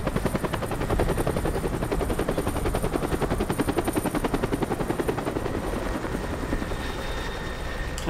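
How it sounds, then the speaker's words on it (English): A helicopter's rotor chops in a rapid steady pulse in the video game Destroy All Humans, close and continuous, with faint game sounds layered behind it. "Helicopter? Can we kill it?"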